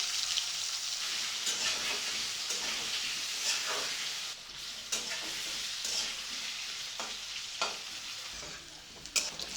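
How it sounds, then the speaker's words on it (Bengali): Turmeric- and salt-coated potatoes fry in oil over a medium gas flame, a steady close sizzle with scattered stirring scrapes and clicks throughout. "ওই একই তেলে লবণ হলুদ মাখানো আলুগুলো ভেজে নেবো গ্যাসের ফ্লেম মিডিয়ামে করে দিয়ে আলুগুলো ভাজবো"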